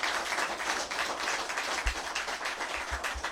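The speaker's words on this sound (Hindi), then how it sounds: "तालियां जोर से बजनी चाहिए।" Sustained dense applause from a rally crowd, many hands clapping steadily at moderate distance with a few louder thumps, no speech over it.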